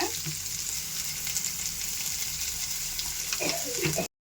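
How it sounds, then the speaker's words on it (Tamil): Onions sauté in a pan for a greens poriyal, giving a continuous close sizzle with stirring scrapes that ends abruptly at the finish, with no talking. "வெங்காயம் போட்டுக்கலாங்க. வெங்காயம் வதக்கிக்கலாம்."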